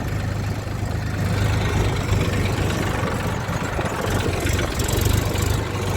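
A tractor's heavy engine idles steadily with a deep, low throb and chugging rhythm, close by and continuous throughout, with no voices.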